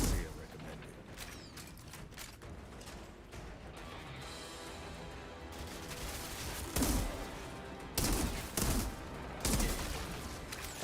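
Automatic sniper rifle in the video game Outriders firing in several short bursts of sharp reports over low mechanical clicking and game ambience, with quiet talk in the background.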